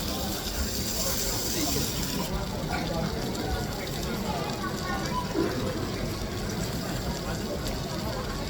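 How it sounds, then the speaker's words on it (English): Japanese hamburger steak served on a sizzle plate in a restaurant, a continuous close crackling hiss of frying juices that runs steadily throughout while people talk over it. "for lunch I had the most juiciest Japanese hamburger steak served on a sizzle plate"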